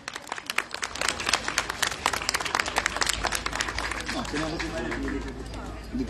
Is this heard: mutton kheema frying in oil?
no